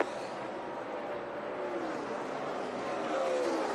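Carl Edwards' No. 99 NASCAR stock car in 2012, off the pace: a continuous roaring engine drone with broad racing noise, holding fairly steady and swelling slightly near the end.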